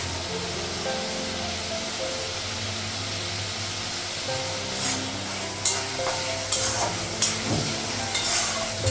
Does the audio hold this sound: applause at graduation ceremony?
no